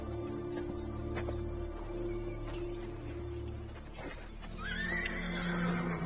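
A horse whinnies loudly near the end, a shrill rising-then-falling neigh over a low rumbling dramatic background in a movie scene set in ancient Pompeii.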